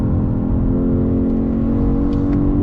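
A 2022 Genesis G70 sport sedan's engine revs on a downshift, a loud, sustained mechanical whir heard from inside the car, steady over a few seconds with no voices.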